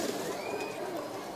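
Pigeon cooing from a strong Khudega King breed pigeon, a soft low coo heard close over a steady background hum, brief and continuous.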